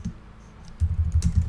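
Close, soft computer keyboard typing of C++ code in a whispered tutoring setting, a brief quiet gap then a quick run of muffled, thumpy key presses.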